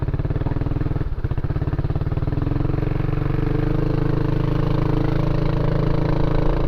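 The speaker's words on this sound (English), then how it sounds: "As soon as I slow down, the idle becomes really weird" A Kymco Xciting 500 scooter engine idles with a loud, close, steady low thrum that wavers slightly and unevenly, with no voices.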